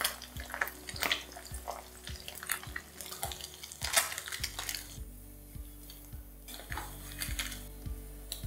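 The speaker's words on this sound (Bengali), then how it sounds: "এইভাবে ভাজলে দেখবেন একটা মাছও ভাঙবে না আর প্রত্যেকটা মাছ খুব ভালো করেই ভাজা হবে।" Small mourola fish frying in hot oil in a pan, a soft continuous sizzle punctuated by repeated clinks and scrapes of a utensil stirring and turning the fish.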